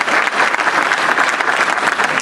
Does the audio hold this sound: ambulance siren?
no